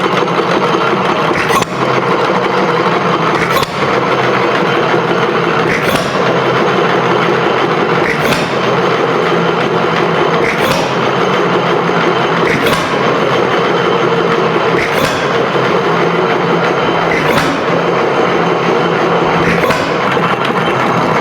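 A Macleods (Nelson Brothers) Model TA 1 3/4 HP stationary engine runs with a loud continuous mechanical clatter, punctuated by a sharp firing bang roughly every two and a half seconds in a slow, even rhythm.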